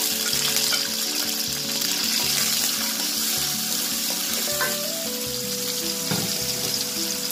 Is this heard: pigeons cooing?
no